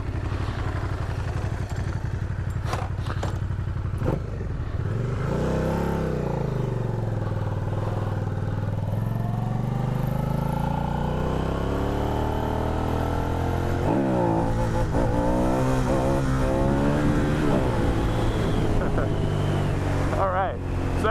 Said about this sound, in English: As you can see, this is a bike you can have some fun with.